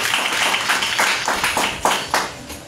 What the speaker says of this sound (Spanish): Déselo fuerte ese aplauso.